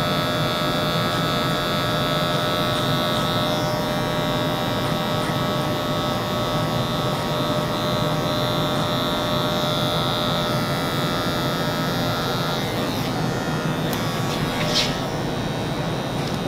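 Wahl Magic Clip hair clipper buzzing steadily and close during a barber's high drop fade haircut, a continuous electric drone with slight shifts in tone as the blade works through the hair.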